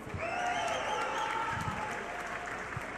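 Crowd at an MMA event applauding both fighters after the bout, a dense, steady wash of clapping lasting a few seconds with an announcer's voice carrying over it.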